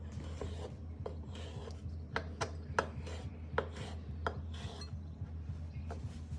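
Knife slicing through red potatoes on a cutting board, a series of crisp irregular cuts and taps, close and fairly quiet over a low steady background hum.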